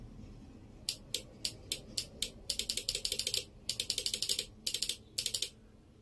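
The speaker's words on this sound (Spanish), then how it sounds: "vamos a tocar entre la terminal 85 y 86 y se debe de escuchar un clic" A car's main relay clicks sharply as its terminals are touched with battery leads, a close series of crisp clicks, first spaced apart, then in rapid bursts and clusters of repeated clicks, with no talk.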